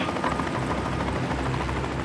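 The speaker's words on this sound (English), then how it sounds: "Helicopter Westpac 1, landed Smith base." Westpac rescue helicopter landing on a grassy ledge, its rotor chop and turbine whine loud and close, steady and continuous with no voices.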